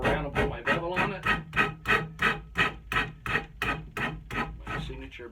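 A file rasps across the edge of a yellow birch tool handle, cutting a bevel in steady, evenly spaced strokes, about three per second, close and fairly loud with no voices.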